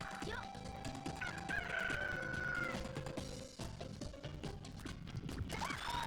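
A chicken crows after being freed in the Billy Hatcher video game, a drawn-out cock-a-doodle-doo over busy game music and clucks, fairly loud and without speech.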